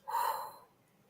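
A single sharp, close breath during a reset breathing exercise rushes in quickly and then fades within about half a second, alone with no talk.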